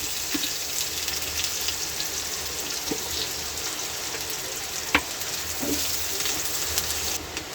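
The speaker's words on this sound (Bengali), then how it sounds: "পেঁয়াজ কুচিটা একটু ভাজা ভাজা করতে হবে, তো আমি ভাজা ভাজা করে নিচ্ছি।" Chopped onions fry in a pan for a jackfruit dish, giving a steady close sizzle with occasional stirring clinks and scrapes and no voices.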